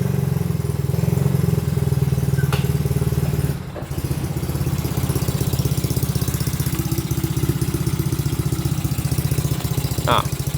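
A Yamaha Mio scooter sits idling loudly through a modified loud exhaust, a rough mid-pitched chug with a brief dip near the start before settling into a steady rattling idle, close by.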